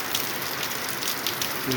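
Afternoon rain falls as a steady, dense hiss of drops on surfaces, continuous and fairly close, with a faint tonal hum near the end.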